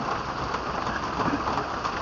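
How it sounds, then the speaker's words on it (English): Steady rain drums on a tin porch roof during a hurricane, a dense continuous patter close by with no voices. "You should be able to hear the rain hitting the tin roof."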